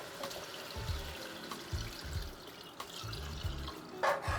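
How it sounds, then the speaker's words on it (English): Broth poured into a pot of chicken, yogurt and rice for a yakhni pulao, a soft, close liquid splashing and trickling with a few low gurgles. "And to this we'll add our broth."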